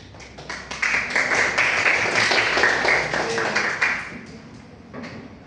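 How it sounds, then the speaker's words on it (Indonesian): Classroom applause for a student at SMK Penda 2 Karanganyar, a burst of near, crisp hand clapping from a small group that rises quickly, holds for about three seconds, then fades to scattered claps. "Tepuk tangan buat Mbak."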